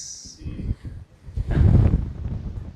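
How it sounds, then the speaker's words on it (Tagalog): Strong wind gusts at about 608 metres elevation on a Masungi Georeserve mountain trail buffet the microphone with a deep, rumbling roar that swells midway through and stays loud to the end. "Lakas ng hangin dito sa taas."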